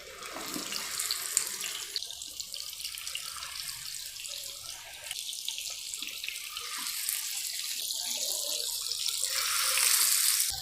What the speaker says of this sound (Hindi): ये देखें जी, एक तरफ से कितना अच्छा सा ये फ्राई हो रहा है।